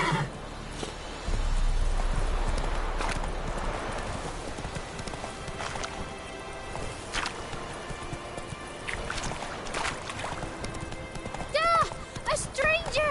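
Roach the horse's hooves clip-clop steadily at a walking pace in The Witcher 3: Wild Hunt on PS4, close and fairly loud over ambient game sounds, with a voice or whinny-like call rising briefly near the end.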